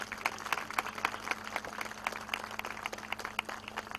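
A crowd claps to welcome Raveena Tandon at a construction company branch launch event in Naigaon, scattered clapping heard faintly and at a distance over a low steady hum.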